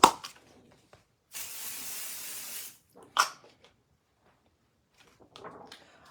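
Short hissing bursts of a spray bottle misting paint over a craft stencil, two or three quick sprays separated by near silence, close and fairly faint.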